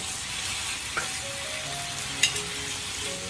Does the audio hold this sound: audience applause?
no